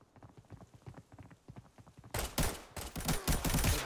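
Gunfire in the shooter game Arena Breakout: a quick rhythmic run of lighter shots gives way to a loud, dense burst of heavy automatic fire up close.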